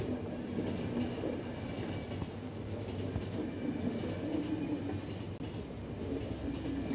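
Train rolling along rails in the video game The Final Station, a steady rumbling clatter of wheels with rhythmic clicks, continuous and fairly quiet with no voices.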